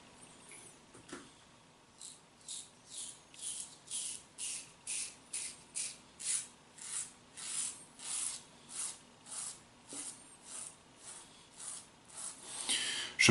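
Straight razor shaving against the grain of a beard on the third pass after lathering with lilac shaving soap, a close, quiet series of about fifteen rhythmic rasping scrapes with short pauses between strokes, no talk.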